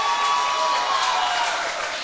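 Crowd cheering and applauding at a men's and women's swimming championship, a steady, dense wash of claps and shouts filling the whole moment at a fairly loud level.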